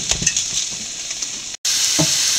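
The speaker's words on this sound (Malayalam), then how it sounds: "നമുക്ക് വേറൊരു പാത്രം വെച്ച് ഈ സവോളയും ഉള്ളിയൊക്കെ വഴറ്റാം." Onions sautéing in a pan for a Kerala crab fry, a steady close sizzle with stirring scrapes, briefly cut off for a moment before the frying hiss resumes.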